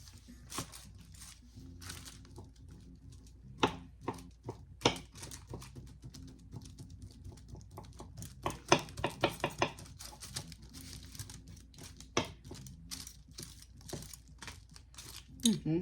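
Aluminium foil crumpled and crinkled by hand to make wax crumbles, a steady run of crackly rustles with sharper crunchy bursts, close and fairly loud throughout.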